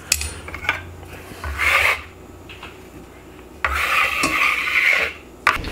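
Flour being stirred and rubbed together by hand, white flour mixed back into whole wheat flour in a bowl, giving soft raspy scraping bursts in two main passes with quieter gaps between.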